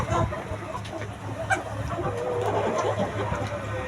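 Chickens cluck on a poultry farm, scattered close and distant calls over a steady fan-like drone and breezy background noise, with no talk.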